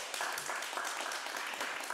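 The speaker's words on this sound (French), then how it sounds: "On peut applaudir pour l'OSG." Studio audience applause on a French television game show: dense, steady clapping from many hands, fairly loud and continuous for the whole two seconds, with no talk over it.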